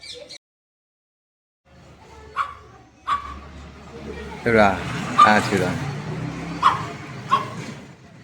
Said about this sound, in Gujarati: અમારા મોહલ્લામાં એક ઘરની સામે કૂતરો છે